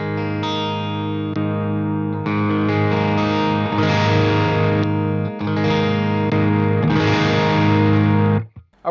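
A Fender Ultra II Telecaster electric guitar with its pickups switched into series plays loud, sustained, overdriven chords and ringing notes through effects, close and continuous, with no voices.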